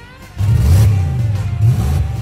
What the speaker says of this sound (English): We have exhaust leaks. Hear them? That all came out of the headers, dude.